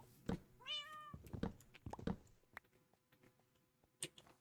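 A cat in the Minecraft video game lets out a short rising meow, followed by sparse clicks and faint game noises in an otherwise quiet scene.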